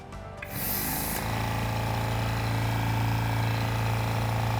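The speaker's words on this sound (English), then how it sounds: "You'll hear the compressor build up." A Stealth cordless AC/DC air compressor starts up and builds pressure toward 130 psi. A brief click is followed by a steady, close motor drone that holds a strong, even hum.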